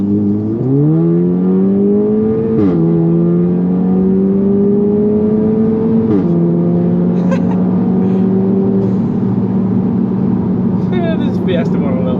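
A loud, raspy straight-pipe exhaust on an Audi S3 8V drones and climbs in pitch through a few gear-like surges, close and continuous, with voices faintly in the background.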